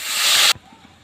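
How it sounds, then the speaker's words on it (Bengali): A loud, sharp sizzling hiss as water is poured over fish frying in hot oil, lasting about half a second before cutting off abruptly to near quiet. "উপর দিয়ে জল দিয়ে দিচ্ছি"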